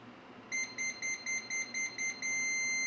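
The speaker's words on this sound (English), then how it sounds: "I'm just going to keep making that noise until the alarm is cleared." Water leak alarm on a FortrezZ water and temperature sensor, triggered when its probes touch water: a steady run of eight short, shrill electronic beeps in an even rhythm, then one longer sustained tone, loud and close with no talking.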